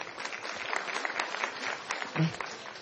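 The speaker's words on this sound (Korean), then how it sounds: "큰 박수 부탁드리겠습니다" Audience applause, a steady dense patter of many hands clapping at moderate volume, continuing throughout.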